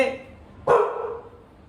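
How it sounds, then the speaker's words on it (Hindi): A single sharp dog bark, fairly close and loud, with a short ringing tail against faint background noise. "कुत्ते"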